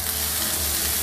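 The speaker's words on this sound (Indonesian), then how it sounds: "sedikit minyak lagi, lalu tumis ini ya, ikan asin" Salted fish sautés in hot oil in a pan for a bitter melon dish, giving a brief, steady, crackling sizzle up close with no voices.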